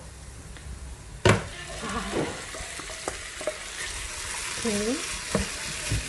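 Fish meat dropped into fragrant frying oil and paste for Burmese mohinga, a soft sizzle with scraping stirs and a sharp clatter early on; a voice speaks briefly over the cooking.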